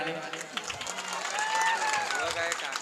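Audience applause and cheering at a stage show, a steady wash of clapping with whistles and crowd noise running throughout, loud and close.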